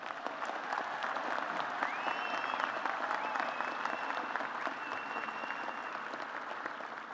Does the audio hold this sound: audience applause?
yes